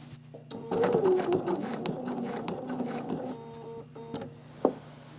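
A sewing machine quilting works around corners in short runs of rapid stitching, pausing with the needle down, then gives a single sharp click near the end; no one speaks.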